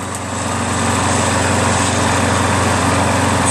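A Briggs & Stratton lawn mower engine with an auto-choke air-vane carburetor, in good running shape, drones steadily and loudly up close for the whole stretch, with no talking.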